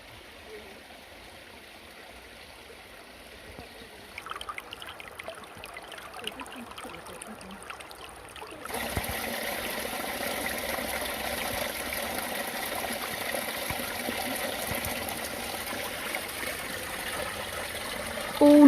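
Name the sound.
stream of spring water flowing at Roman villa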